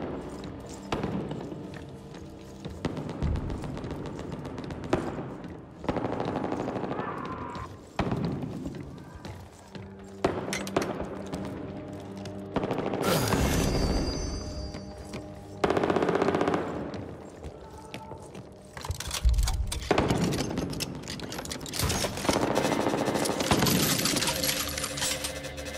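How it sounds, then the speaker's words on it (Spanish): Machine gun bursts in the zombie shooter Back 4 Blood rattle in repeated clusters, loud and close, separated by short pauses, with clinking shell casings and occasional thuds between volleys. "Una ametralladora."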